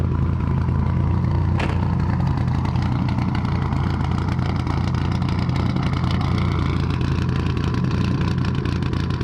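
A Subaru GC8 car engine runs steadily, close and loud, with a low rumbling idle and a faint clattering texture throughout.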